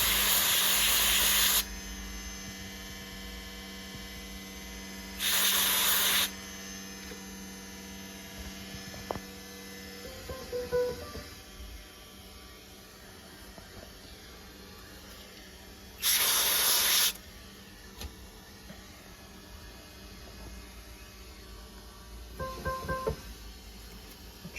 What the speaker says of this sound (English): spray the cooling spray on that one, and you listen to the effect it has on the sound.